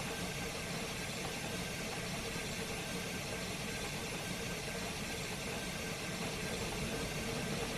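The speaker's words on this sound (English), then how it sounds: "that blower sound's getting annoying on my headset" Steam locomotive blower in a train simulator game on Sherman Hill, a steady, loud broadband hiss running unbroken alongside a low engine-like rumble.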